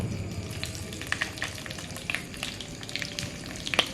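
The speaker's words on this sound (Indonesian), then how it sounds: "Cueknya digoreng dulu." Fish (ikan cue) frying in hot oil, a steady crackling sizzle with scattered sharp pops, close and continuous with no talk.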